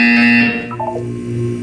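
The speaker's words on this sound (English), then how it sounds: "You will hear a buzzer. When you hear the buzzer, look up at the ceiling." A buzzer sounds in the video game Portal 2, a loud, harsh electronic tone opening the clip and then tapering into a short falling electronic chirp, with a steady background hum beneath.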